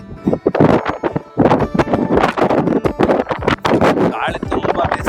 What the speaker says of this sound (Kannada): ಗಾಳಿ ತುಂಬಾ ಬೀಸ್ತಾ ಇದೆ,